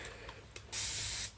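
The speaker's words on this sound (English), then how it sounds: "Spray, spray." Spray bottle misting water onto type 4 natural hair during detangling: a single short, close hiss of spray lasting about half a second over quiet room tone.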